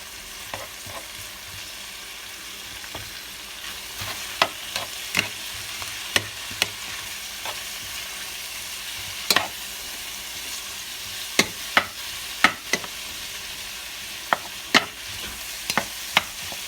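Garlic, roughly three cloves' worth, frying in a hot pan with a continuous soft sizzle and sharp, irregular clinks of a utensil scraping the pan, close by and without voices.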